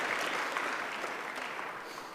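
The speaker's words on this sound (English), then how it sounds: "Can we give another round of applause to our G2 representatives?" An audience claps steadily, a dense wash of applause from a crowd, holding even and then tapering slightly.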